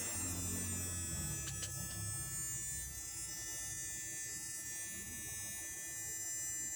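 A Tamiya Mini 4WD toy motor being broken in gives a steady electric hum with a high whine, constant and close, running unbroken throughout with a few brief clicks early on.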